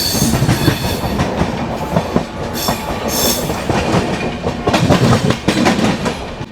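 LTT Mumbai–Bhopal superfast express train rolling slowly under a 55 speed limit near Bina Junction, with a steady rumble and rhythmic clickety-clack of wheels on rail joints, close and continuous, with no talking.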